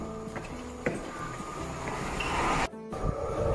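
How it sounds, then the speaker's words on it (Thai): Train arriving at a station platform, with rumbling wheels and metallic clatter, a brief squeal and a short thump, moderately near and steady. "รถไฟมาแล้วจ้า"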